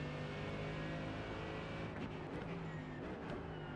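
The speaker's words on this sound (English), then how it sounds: "Faster car coming up quick." Race car engine droning steadily in a sim racing game, with a faster car's engine note rising as it closes in from behind over the player's own car.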